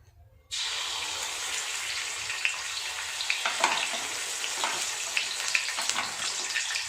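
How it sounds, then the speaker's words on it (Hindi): Ginger garlic paste hits hot oil and ghee in a pan with a sudden, loud, crackling sizzle that continues steadily with small pops and spatters. "और उसके बाद इसमें आदू लहसुन की पेस्ट डालेंगे।"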